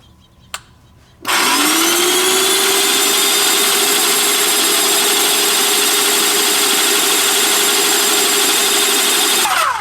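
A MaXpray airless paint sprayer switches on after a brief click and runs steadily and loudly, its pump drawing paint up through the pickup tube with a constant whine and a droning hum.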